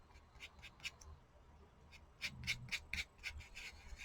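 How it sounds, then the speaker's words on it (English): A fingertip rubs medium around a paper Christmas collage tag, making faint, soft scratchy strokes in short repeated bursts that grow a little louder toward the end. "just use your finger and kind of rub it around"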